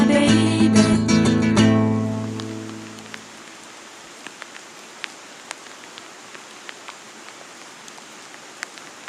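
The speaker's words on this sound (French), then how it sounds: "La pluie a envahi le ciel pour une grosse semaine." Steady patter of rain on a surface with scattered sharp drips, following a fading stretch of music at the start.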